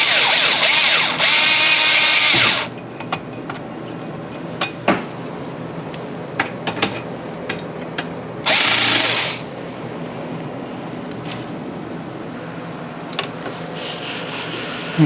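Fitting on a Cameo espresso machine steam wand being tightened: two bursts of a loud power-tool whir, scattered metallic clicks and clinks of parts between them, close-up.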